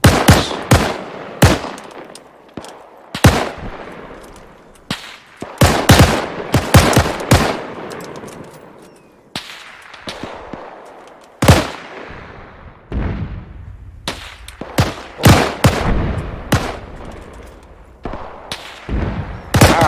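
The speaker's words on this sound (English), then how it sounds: "Wow, mortar's actually shooting." Repeated mortar and gunfire blasts from a World War II winter battle in Arma 3, a dense run of loud, sharp reports at an uneven rhythm, some close and booming, others trailing off with echo.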